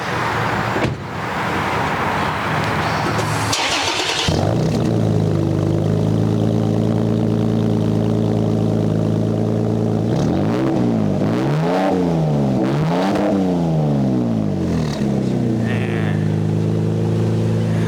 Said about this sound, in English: we're gonna go ahead and start it up for you guys. So let's see how it sounds